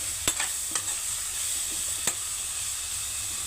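Tomato and green chillies frying gently in a pan, a low steady sizzle with a few sharp stirring clinks and scrapes, close and without talk.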